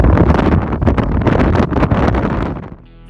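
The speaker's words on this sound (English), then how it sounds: "the wind is picking up so much it's making it a little scary" Strong wind at the top of the Wallace Monument near Stirling, loud roaring buffeting gusts battering the microphone, then dropping off abruptly near the end.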